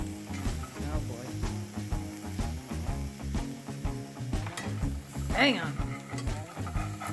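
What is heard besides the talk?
Dollar Tree ribeye steak sizzling in a frying pan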